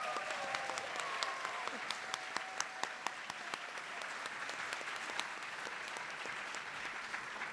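An audience at a school district opening session applauds mentor teachers from Teachers of Tomorrow, with steady clapping held at a moderate, somewhat distant level throughout and a few sharper individual claps standing out.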